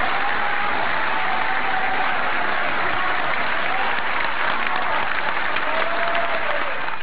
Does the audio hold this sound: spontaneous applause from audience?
yes